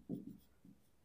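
A pen scratches faintly on paper as a math solution is written out by hand, a few soft short strokes spaced across a second, quiet and close with no talking.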